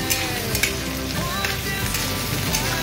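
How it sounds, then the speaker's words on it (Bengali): Onion and bay leaf fry in hot oil in a pan, giving a continuous close sizzle with a few small pops and faint utensil scrapes. "আমি পেঁয়াজটা দিয়ে দিলাম।"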